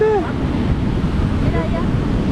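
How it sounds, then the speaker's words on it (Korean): Ocean surf at Carrizalillo beach in Puerto Escondido rumbles as a broad wash of waves, mixed with wind buffeting the microphone and a faint voice in the background. "여기 까리살리조 해수욕장에 왔습니다"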